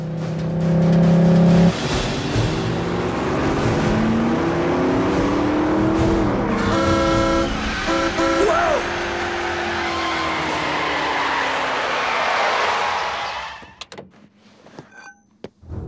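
A cartoon racing car speeds along, its engine roaring loud and close, pitch sweeping up and down through gear changes with brief squeals, before the sound cuts off abruptly near the end.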